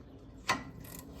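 A single sharp ratchet click burst as 17 mm brake caliper bracket bolts are snugged on a 2002 Honda Civic, quiet and close, with faint rattling after.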